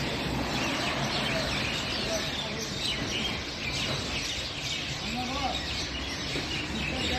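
Morning birds chirp at 5:54 am, a dense, steady chorus of small calls over broad background noise, continuous and moderately loud with no talking.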